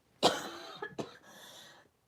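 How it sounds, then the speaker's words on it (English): A single sharp cough followed by a couple of smaller throat-clearing coughs, close and fairly quiet indoors. "I don't know where that cough came from."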